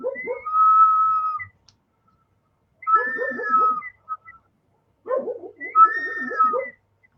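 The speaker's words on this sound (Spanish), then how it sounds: "el silbato está dentro, es un silbato más pequeñito que está ahí adentro y provoca el sonido" Three separate warbling whistle bursts from a water-filled whistling vessel with a small inner whistle, each a steady two-toned whistle over a bubbling, gurgling trill, with short silences between.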